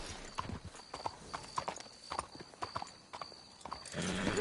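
Horse hooves clip-clop at a walking pace in the video game Red Dead Redemption 2, a steady moderately close rhythm ending in a low rumble near the end.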